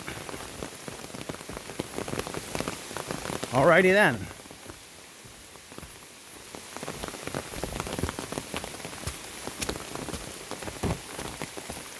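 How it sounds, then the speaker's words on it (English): Steady heavy rain pours down with the sun out on the Appalachian Trail, a dense hiss with scattered drops across the whole stretch, while a voice speaks briefly near the middle. "Pouring down rain with the sun out."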